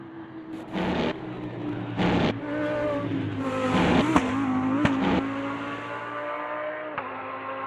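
A Lamborghini Super Trofeo race car engine in the Automobilista 2 sim racing game (version 1.6) drones loudly and continuously, its pitch rising and dropping through several gear shifts with sharp bursts along the way and no talking.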